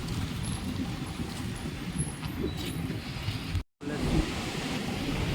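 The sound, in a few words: waves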